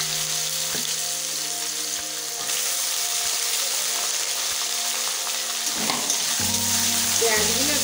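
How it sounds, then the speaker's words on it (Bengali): Onions hit hot oil already holding bay leaf, dried red chilli and whole cumin, setting off a loud, steady sizzle and fry with a few clinks of stirring close by. "এবার পেঁয়াজগুলো দিয়ে দিচ্ছি।"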